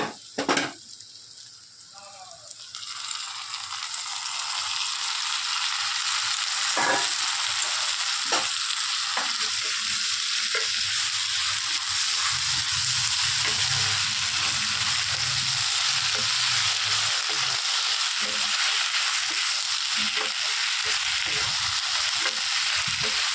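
Taro stolons, jackfruit seeds and prawns fry and get stirred in a hot pan. A quieter start swells into a loud, continuous sizzle with repeated scraping and clattering of the spoon against the pan.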